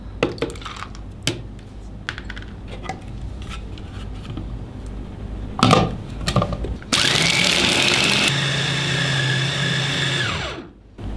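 Food chopper blending chicken meat with ice cubes and egg white: handling clatter and knocks first, then a loud, steady motor whir for a few seconds that winds down and stops.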